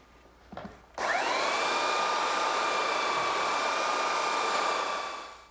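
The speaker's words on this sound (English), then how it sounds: "when you run the sander over it again" An electric sander runs over oak filled with sawdust while a cabinet is built, starting abruptly after a brief knock and holding a loud, steady whine for several seconds before easing off at the end.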